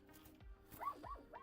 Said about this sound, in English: Apologies if you can hear my dog outside, just being a dick.